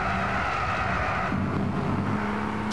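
A race car in a kids' race at Silverstone drifts sideways, its tyres skidding and scrubbing against a steady, loud engine drone that shifts pitch midway.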